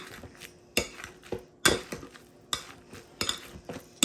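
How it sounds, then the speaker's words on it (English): Baked, peeled sweet potatoes mashed with a potato masher in a pot or bowl: repeated dull thuds and scraping knocks of metal against cookware in an irregular rhythm, close and fairly loud, with no talking. "take a tater masher and just mash these up"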